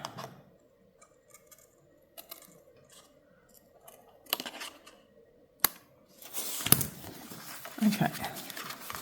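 Scissors snip through card while crafting a pop-up slider easel card, a few sharp cuts and a louder burst of snipping near the end, close by with quiet talk around it.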